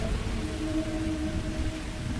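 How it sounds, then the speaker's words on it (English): Steady rain falls in a space-exploration video game, a dense even hiss with a low rumble underneath and a faint tonal hum running through it, continuous and unbroken with no voices. "Good sound for like rain and everything too."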